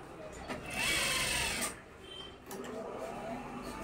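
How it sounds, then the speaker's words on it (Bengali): A sewing machine stitches a boy's shirt in a quick whirring burst that stops, then runs again more quietly, close by with a voice talking over it. "খুব সুন্দর করে কিন্তু এটাই করা হচ্ছে, সেলাই করা হচ্ছে"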